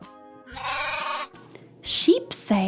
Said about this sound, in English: Sheep say, ba, ba.